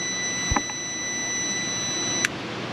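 A digital multimeter beeps during a continuity test on the ECM connector pins of a 6.6 Duramax LBZ Sierra/Silverado, two short sharp beeps, one early and one near the end, over a steady electrical hum.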